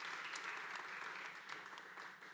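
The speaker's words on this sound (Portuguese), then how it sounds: "Aplausos," Applause from a studio audience welcoming a guest on a podcast about entrepreneurship, heard as a faint, even patter of many claps running throughout with no voices over it.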